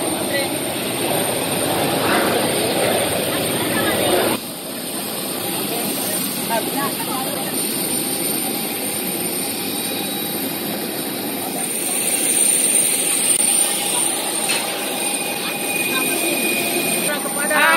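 Airplane jet engine roaring loudly and continuously nearby, a steady broadband whine and rush with a sudden shift partway through, as people talk faintly underneath.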